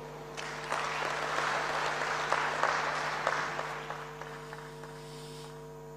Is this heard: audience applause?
yes